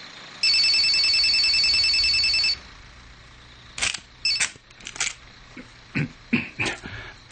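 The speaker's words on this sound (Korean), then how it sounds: "전화벨이 울리자" An old-style telephone bell rings for about two seconds in a radio drama, followed by a series of sharp clicks and clunks.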